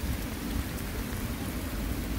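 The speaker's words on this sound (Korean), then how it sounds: "비가 어떻게 와요? 비 온다." Steady rain falls at Sapgyoho lake, a continuous dense patter with a low rumble underneath, close and even throughout with no voices.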